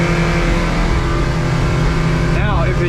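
A 2007 Hewescraft 200 Sportsman boat's outboard motor drones loud and steady on the water, with a rising whine near the end as it speeds up.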